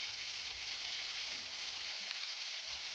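Onion pieces frying in a pan while cooking aloo dum biryani, a steady, quiet hiss of sizzling oil that stays even and continuous throughout.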